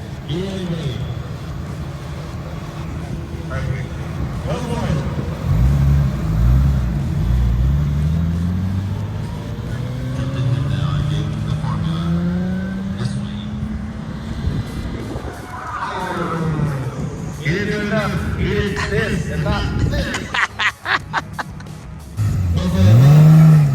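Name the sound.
Nissan drift car accelerating from the start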